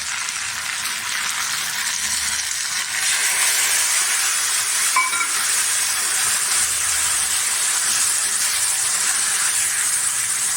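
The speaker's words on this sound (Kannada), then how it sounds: "ಈ ಥರ ಚೆನ್ನಾಗಿ ಕುದಿಸ್ಬೇಕು ಖಾರದ ವಾಸನೆ ಎಲ್ಲ ಹೋಗೋ ತನಕ" Spicy bitter gourd gravy with tamarind and ground masala boils in a pot, a steady, dense bubbling hiss that holds at an even level throughout, with no talking.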